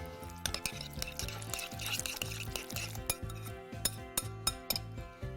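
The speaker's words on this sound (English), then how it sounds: "Give it a good mix." Dumpling filling with bamboo shoots, sake and salt is stirred in a bowl, a utensil making rhythmic, close clinks and scrapes against the sides, moderately quiet with a few sharper taps toward the end.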